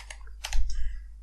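Username being typed on a computer keyboard, a short cluster of close, crisp key clicks followed by a couple of softer taps.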